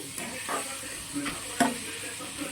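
Pasta is sautéed and stirred in butter in a pan, a soft low sizzle broken by a few spatula scrapes and light knocks, fairly quiet and close.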